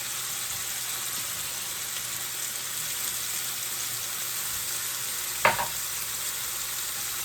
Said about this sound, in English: In the same pan, we're gonna add our vegetables.